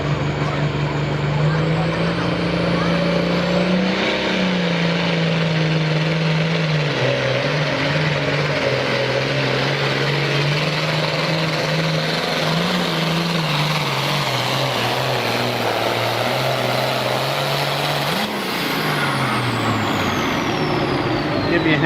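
A pulling tractor from the Snyder County Tractor Puller Circuit runs with a loud, continuous engine drone whose pitch rises and falls gently as the revs shift, close and sustained throughout.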